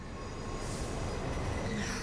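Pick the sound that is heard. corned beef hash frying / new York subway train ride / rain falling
new York subway train ride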